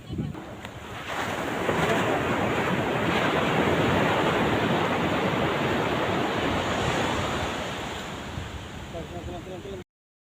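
Steady roar of ocean surf washing in continuously on Sonadia Island, Cox's Bazar, broad and rushing, with a breezy wind-like hiss; a faint voice is briefly heard near the end.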